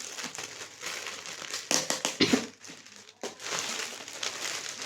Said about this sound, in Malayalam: നമുക്ക് അധികം നശിപ്പിക്കാണ്ട് പൊട്ടിക്കാം